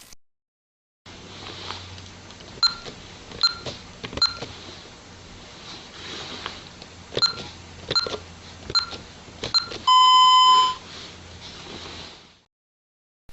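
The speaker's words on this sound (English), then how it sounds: "3 beeps means the code was changed successfully." Honeywell Vista 20P alarm panel keypad sounding a series of short sharp beeps as digits are keyed in for a code change, ending in a sustained confirmation tone, close and clear with no talking.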